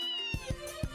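A cat named Anthony in the video game Trails in the Sky gives a short run of meows, three quick close-up cries in about a second with no speech.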